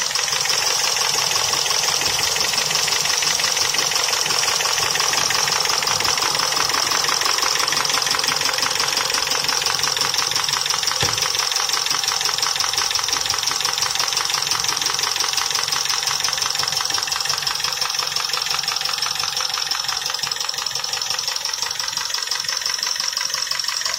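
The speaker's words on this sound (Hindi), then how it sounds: "इसका इंजन जो है वो खराब हो चुका है, कमज़ोर हो चुका है, रिंग पिस्टन ये कमज़ोर हो चुके हैं" A Chevrolet Epica engine with worn piston rings idles roughly for a long stretch, with a steady, rapid metallic knocking running through its close, continuous drone.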